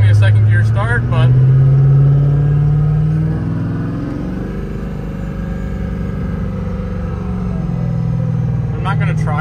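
An LML diesel truck with a swapped 48RE transmission pulls away from a second-gear start, its deep engine drone rising then easing while someone talks nearby.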